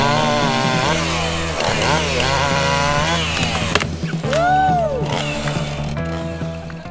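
A loud chainsaw engine revving and bogging as it cuts through a fallen tree, its pitch rising and falling, briefly easing off before roaring again.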